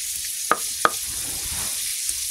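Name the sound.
rupchanda fish frying in oil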